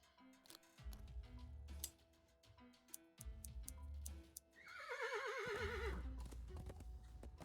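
A horse in the video game Willy Morgan and the Curse of Bone Town lets out a loud, wavering whinny near the end, after slow clip-clop hoof knocks and ticking sounds over a low musical drone.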